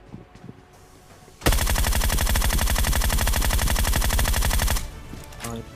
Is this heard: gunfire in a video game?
yes